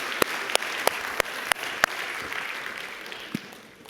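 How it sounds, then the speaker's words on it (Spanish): At a church service, a handful of sharp, evenly spaced claps ring out over a sustained wash of crowd applause that gradually fades away. "Dale un fuerte aplauso al Señor."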